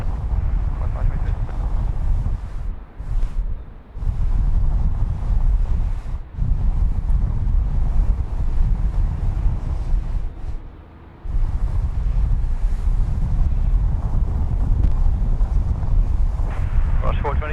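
Strong wind at Sydney Airport buffets the microphone in a steady, loud low roar, with near-continuous gusting and a few brief lulls.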